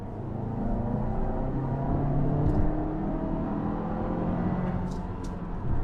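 A 2021 Kia Sorento SUV accelerating hard from about 30 mph, heard from inside the cabin as a steady, loud engine and road rumble that builds slightly, with brief faint clicks near the end.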